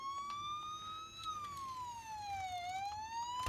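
A thin electronic siren slowly rises and falls in pitch, steady and fairly faint, like a small toy emergency vehicle wailing.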